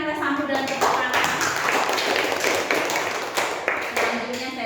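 Audience clapping at a school gathering, a brisk uneven patter of hands lasting several seconds with some voices mixed in underneath.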